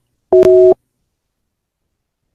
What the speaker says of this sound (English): Line is busy.